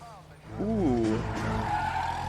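A car in L.A. Noire drives off with a sharp squeal of skidding tires, rising and wavering for about a second near the listener, then trailing into engine noise as it pulls away.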